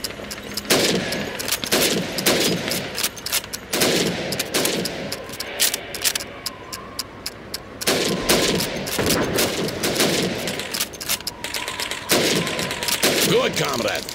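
Rapid rifle shots crack out in bursts at helmet targets on a Call of Duty 2 training range, loud and close, with gunfire clusters separated by brief pauses across the stretch.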